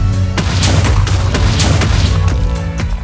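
Minecraft creeper explosions go off in a loud, dense run of booms and crashes, several blasts overlapping in quick succession with no voices.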